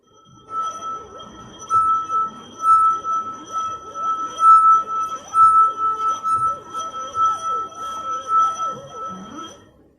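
A finger circling the rim of a glass filled three-quarters with water sings out in short, wavering bursts that start and stop repeatedly over roughly eight seconds, fairly quiet, with light rubbing and room noise between the tones.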